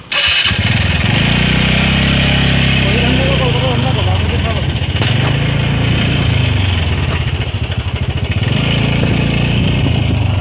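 A motorcycle engine runs nearby, its low throbbing rising and falling as the throttle is worked, steady throughout with faint voices underneath.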